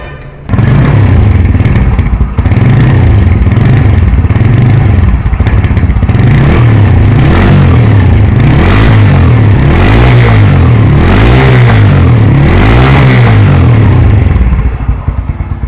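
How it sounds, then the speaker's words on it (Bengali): A second-hand Bajaj Boxer motorcycle engine runs steadily up close, loud and continuous, with a regular throbbing pulse and a mechanical clatter throughout. No one speaks. "গাড়ির সাউন্ড বলে দেবে এর পরবর্তীতে গাড়ির কন্ডিশন কী"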